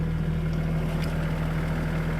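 Kioti CS2220 compact tractor engine idling steadily, a constant low hum with a continuous drone, close and alone with no talk.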